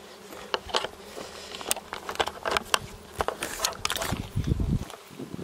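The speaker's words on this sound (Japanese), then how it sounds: "本当に蜂多すぎ。" Many bees buzzing in a field in Provence, a close drone with individual insects flying past the microphone, mixed with soft rustling and footstep-like patter, plus a louder buzzing swell near the end.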